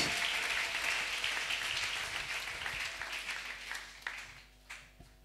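Church congregation applause and acclamations at a French-language service, a full wash of clapping that thins out and fades, ending in a few scattered claps.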